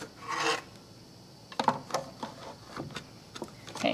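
A die-cutting machine wheel is cranked to feed a layered sandwich of cutting pads and a flower die through, giving a quiet series of rasping, ticking scrapes after a brief opening rub, with no talk.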